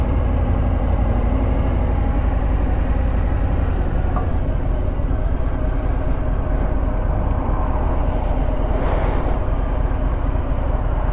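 Harley-Davidson Sport Glide 107 motorcycle engine rumbling steadily and close, a continuous low throb that holds even throughout with a brief brighter swell near the end, no talking.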